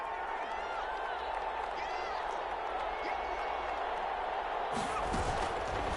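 Steady roar of a large stadium crowd during an NFL game between the Falcons and Vikings, held at a constant loud level throughout with a brief swell near the end.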